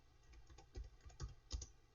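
Soft keystrokes on a computer keyboard, a quick irregular run of clicks close by and fairly quiet, with no voice.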